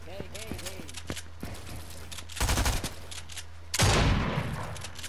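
Gunfire rings out in a 1v1 video game match as several sharp bursts of shots, one longer loud volley near the end, with a player's voice heard briefly among them.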